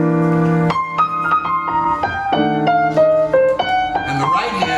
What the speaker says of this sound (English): So if we just did a simple blues improvisation